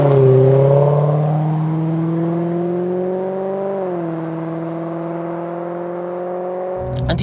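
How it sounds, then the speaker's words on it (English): A 1990s Aston Martin V8 accelerating as the gearbox changes down, a loud close engine drone that dips in pitch, then holds a steady rising hum, ending with a brief clatter. "bury the pedal, the gearbox will change down,"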